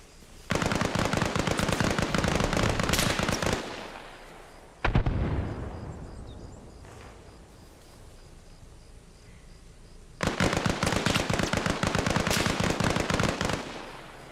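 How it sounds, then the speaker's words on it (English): Bursts of rapid automatic gunfire with bullets whizzing past in Arma Reforger, loud and close, in two long volleys separated by a sharp single crack and a stretch of fading echo. "Bullets whizzing by."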